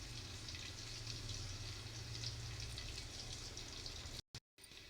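Red chili paste sizzles steadily in a hot pan on the stove, a dense, even frying hiss close by with no talk, broken by two short dropouts near the end.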